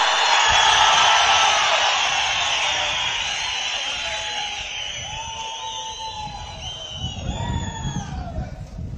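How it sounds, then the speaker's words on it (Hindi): A large crowd at a political rally in Dooda, addressed by Arvind Kejriwal and Bhagwant Mann, gives a loud, dense wash of applause and cheering that fades slightly before a fresh swell near the end, with shrill whistles threading through. "जोरदार तालियां।"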